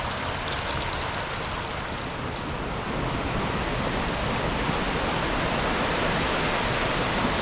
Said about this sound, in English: I call this waterfall the whale's tail,